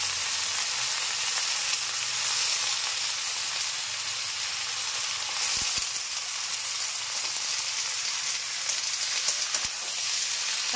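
Spinach, eggplant and potato sizzling in a pan with garlic, a steady, even frying hiss that continues throughout with only a few faint clinks.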